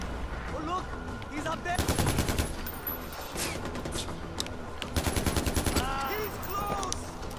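Rapid bursts of gunfire rattle out in two clusters amid other shots during Far Cry 4 gameplay, fairly quiet overall with faint background sounds between volleys.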